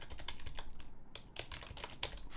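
Close, quick keystrokes on a computer keyboard entered as a command on an Arch Linux system, with bursts of clicks broken by a brief pause, and no talking.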